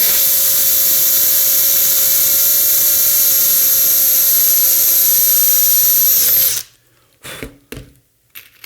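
Power drill boring a rivet hole through a launcher bracket, a loud steady high-pitched whine held for about six seconds before spinning down, followed by a few short clanks.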